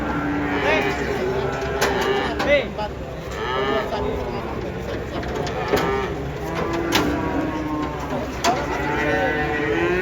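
Cattle unloading from a truck moo repeatedly, several drawn-out lowing calls at close range, with people talking and background chatter throughout.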